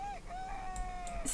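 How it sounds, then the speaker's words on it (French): A rooster crows once in a Sims 4 farm game, a drawn-out cock-a-doodle-doo that sits fairly quiet in a soft game ambience, with a few faint clicks around it. "C'est le matin, notre coq nous le dit."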